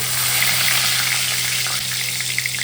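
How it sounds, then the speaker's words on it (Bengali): Two bay leaves sizzle in hot oil for a Bengali cauliflower dish, a loud continuous frying hiss with a steady low hum beneath it and no talk. "তেলের মধ্যে দুটো তেজপাতা দিলাম"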